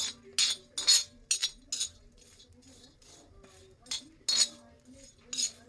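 Dried shrimp (karandi) is dry-roasted in a pan, a utensil clinking and scraping against the metal in a string of short, close strokes with quiet pauses between them and no talking.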